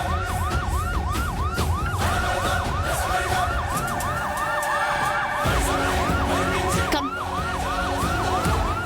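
An ambulance siren wails continuously in a fast, regular rising-and-falling cycle, loud and near, over steady traffic rumble.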